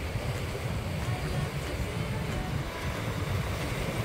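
Ocean surf at Kona on Hawaii Island rolls in as a steady, dense wash of waves, mixed with wind noise across the microphone.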